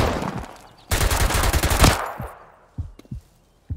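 Automatic gunfire in the FPS extraction shooter Project L33T erupts as one loud dense burst lasting about a second, followed by a few isolated, quieter shots.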